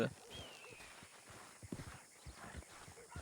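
Horse hooves in Red Dead clip-clop in an uneven walking rhythm, with a brief whinny at the start, over a soft ambient background with faint voices.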